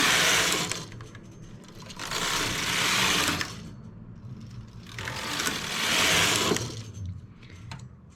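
A domestic knitting machine carriage sweeps back and forth knitting rows for a baby's wrap cardigan, two loud swishing, rattling passes separated by quieter mechanical clicking.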